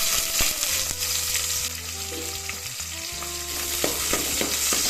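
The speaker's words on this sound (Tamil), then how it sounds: "கொஞ்சம் நல்லா வதக்கிட்டு இதோட 2 பச்சை மிளகாய், 2 தக்காளி போட்டு நல்லா வதக்கணும்." Onions and whole spices (cardamom, cinnamon, cloves, stone flower, bay leaf) sauté in hot oil with a dense, continuous close sizzle, occasional stirring clicks and a steady low hum underneath.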